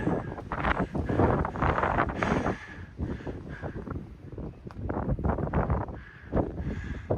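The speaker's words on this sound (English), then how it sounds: "if you can hear me over the wind" Gusty wind on Hollow Mountain in the Grampians buffets the microphone in loud, uneven rumbling bursts that rise and fall without a break.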